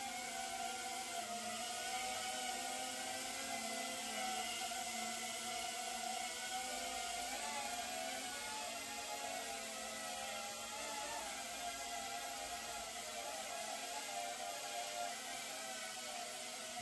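Steady high-pitched whir of DJI Avata 2 drone motors, continuous and fairly close, with no talking over it.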